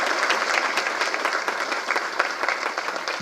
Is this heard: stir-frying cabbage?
no